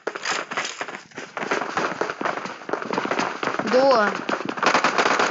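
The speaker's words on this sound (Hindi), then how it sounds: "कहीं से तो फायरिंग आ रही है मेरे ऊपर" Rapid gunfire in the mobile shooter BGMI during an apartment fight, dense crackling bursts throughout with someone speaking over them.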